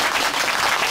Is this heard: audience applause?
yes